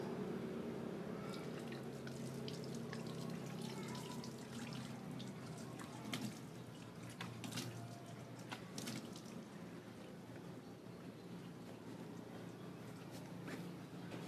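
Tap water runs steadily into a sink while a man rinses face wash off his face, a close, continuous splashing stream with scattered drips and no talking.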